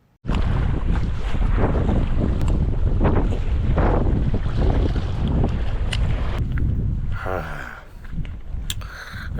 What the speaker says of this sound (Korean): 바람이 너무 불어서 이동했습니다.